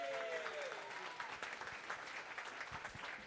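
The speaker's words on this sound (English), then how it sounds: "Let's clap it up for Melissa." An audience at a Nerd Nite talk applauds after a speaker finishes, steady but fairly faint clapping that runs for a few seconds with faint voices mixed in.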